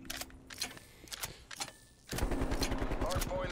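Automatic Streetsweeper shotgun firing in the video game Cold War, a fast, loud, continuous string of blasts starting about two seconds in, preceded by scattered clicks and game noises, with a voice talking over it.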